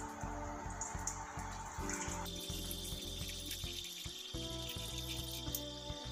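Boiled hibiscus water runs from a pot into another vessel, a steady close pouring trickle with a shift in tone partway as the stream changes.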